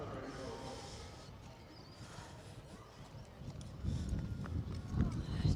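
Horses at the Royal Adelaide Show during a hack award presentation, hooves clip-clopping faintly under a continuous announcer's voice, growing a little louder toward the end.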